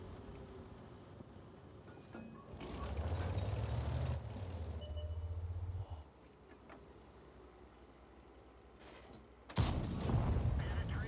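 Tank gun fire in an online tank battle video game set on the Siegfried Line, with a rumbling engine drone and a sudden loud cannon blast near the end, heard alone without talk.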